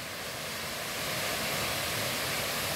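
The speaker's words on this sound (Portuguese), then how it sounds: "lá embaixo é a cachoeira, ó." Cachoeira do Índio waterfall, below a muddy hillside after morning rain, sounds as an even, constant wash of falling water filling the whole clip, moderately loud and unbroken.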